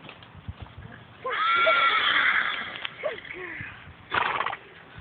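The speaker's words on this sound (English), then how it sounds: "This is Rosie the horse, the new horse that Nora bought." A horse lets out a long, loud whinny, followed by a shorter neigh, with hooves clopping softly and faint voices nearby.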